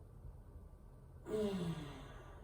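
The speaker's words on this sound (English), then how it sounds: "Breathing out through the nose so that breath rushes along the base of the throat, clearing, cleansing the diaphragm" During a yoga session, a single forceful breath rushes out through the nose as a close, breathy whoosh after a quiet pause, then trails off.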